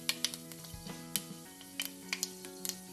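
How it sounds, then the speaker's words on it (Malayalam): Fenugreek seeds sputtering in hot oil, scattered sharp little pops and crackles spaced irregularly over a faint sizzle, close by, with a brief utensil knock. "ഉലുവയും പൊട്ടിക്കഴിയുമ്പോൾ"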